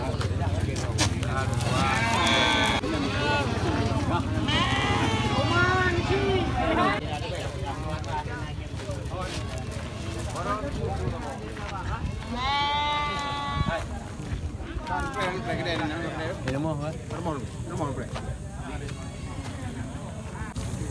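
Goats and sheep, including black-wooled fat-tailed sheep, bleat repeatedly at a livestock sale, close and loud cries over a busy crowd of talking voices and rumbling background noise.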